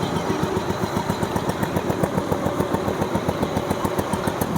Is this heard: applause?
no